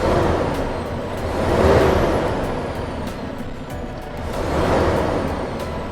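A Mitsubishi Fuso Super Great truck engine revs twice, each throttle blip swelling into a loud roar with a hissing air-intake whoosh before settling back to idle, with no talk.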